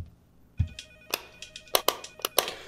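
A telephone rings in short, sharp bursts, several quick jangling pulses repeating over a couple of seconds, close and clear in an otherwise quiet room.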